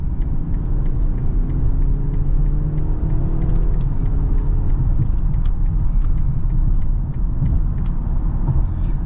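A 2023 BMW X3 with an 8-speed automatic gathers speed from inside the cabin, a steady low engine and road drone with faint rising tones as it accelerates, continuous and moderately loud.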